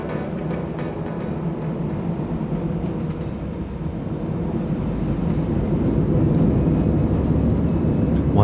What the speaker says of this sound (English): due to the lack of mass of this plane, the takeoff was alarmingly aggressive